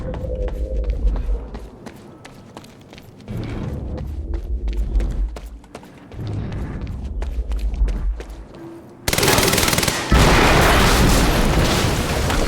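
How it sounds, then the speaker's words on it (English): A loud, close explosion blast in the video game Quantum Break, erupting suddenly late in the clip as a broad roaring burst after a stretch of footsteps and rumbling game sounds. "HQ, we just heard an explosion near the harvesting perimeter."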